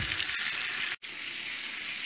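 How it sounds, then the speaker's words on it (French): Chicken pieces fry gently in a pan for paella, seasoned with salt and herbes de Provence, giving a close, steady sizzle and crackle with one brief break partway through and no talk. "Moi, je les fais frire à la poêle, gentiment, pendant une bonne demi-heure."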